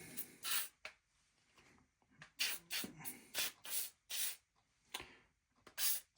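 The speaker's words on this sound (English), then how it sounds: "I'm going to spray some of this down in there." Short hissing bursts from an aerosol can of Teflon spray inside a Tandy 2500 XL/2 computer, irregular and close, separated by brief quiet gaps and small handling noises.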